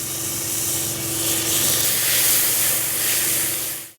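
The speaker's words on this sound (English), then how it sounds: "Cook the tomatoes for about 2 minutes." Roughly chopped tomato cooking in a pan for masala vegetable khichdi: a close, continuous sizzle and hiss that swells slightly midway, with a faint steady hum beneath, fading out at the end.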